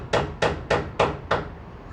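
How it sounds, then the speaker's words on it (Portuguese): Five evenly spaced hammer blows strike at a steady rhythm, each a sharp close knock with a short decay, heard alone. "Vou uma martelada aqui em cima."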